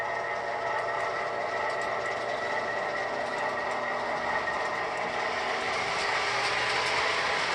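A model train locomotive fitted with new traction motors runs steadily, giving a continuous whirring hum with a faint rattle from the track and no voices.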